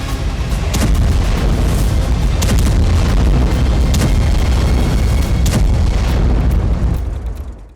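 Russian Iskander missile strike explosions in Ukraine produce a loud, sustained roar of blasts and rumbling booms, with repeated sharp bursts layered over a dense low rumble before fading out at the end.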